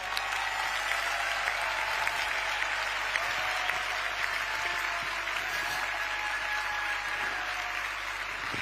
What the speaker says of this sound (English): Can we give Mirella a big round of applause?